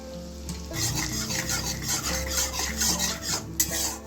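Fennel seeds and asafoetida, a teaspoon of each, sizzling in hot oil in a pan for a Bengali dhoka curry, a close, bright, continuous crackling hiss with light stirring scrapes and no voices.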